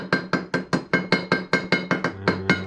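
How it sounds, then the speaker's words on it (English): A ball peen hammer taps the edge of metal sheet about a dozen times in a steady, even rhythm, each strike a sharp, ringing clink close to the microphone, with a low hum appearing near the end; the work is a gasket for an '87 Mazda B2000 transmission. "just kind of like hit it with the hammer, the ball peen, on the edge of the metal, and it will cut as you go"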